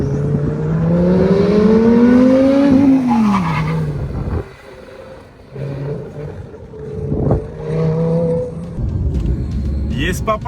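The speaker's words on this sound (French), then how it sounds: "Tu entends le bruit du V10 Atmo là?" A Porsche with a naturally aspirated V10 and straight-pipe exhaust roars loudly, rising in pitch and then dropping sharply. Tire squeal and rougher, uneven engine noise follow, with voices talking over parts of it.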